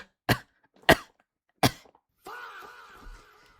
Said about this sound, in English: about to come out with a cough